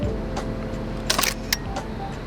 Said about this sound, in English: Got the shutter release cable here, and I want to get a shot of you clicking it